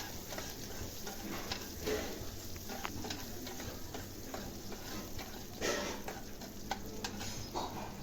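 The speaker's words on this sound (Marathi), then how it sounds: "आता हा कांदा छान परतून घेऊया" Chopped onion is stirred and sautéed in a pan with cumin and mustard seeds, a soft steady sizzle with occasional scraping and stirring clicks close by, and no voices.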